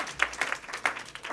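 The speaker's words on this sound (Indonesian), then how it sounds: "Sekali lagi tepuk tangan yang meriah buat Tuhan yang ajaib." Church congregation applauding, a brief burst of scattered hand claps in a hall, quickly thinning out.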